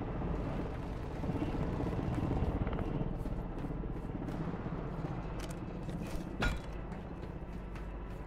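A helicopter in the Modern Warfare 3 video game keeps up a steady, fairly faint rotor drone. A sharp burst cuts in near the end.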